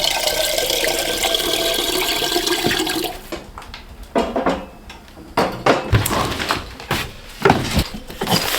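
Water running from a tap in a frozen cabin at -54°, a steady broadband rush for about three seconds, then a quieter stretch of irregular knocks, splashes and clatters close by.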